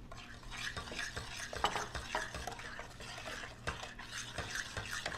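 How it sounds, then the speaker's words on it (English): Batter stirred by hand in a bowl as an egg is worked into brownie mix, giving steady scraping, sloshing strokes with light clinks of spoon against the bowl, continuous and close, no talking. "So I beat up my egg and I thoroughly stir it in."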